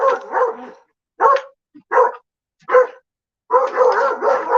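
A dog on a line barks loudly and close by in five separate bursts, short volleys first and then a longer run of rapid barks, with no one speaking.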